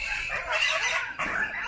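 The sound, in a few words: chickens clucking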